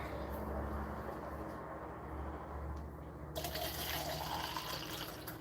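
Water pours steadily into a cup for an in-car drinking setup, a continuous splashing fill heard up close with no talking over it.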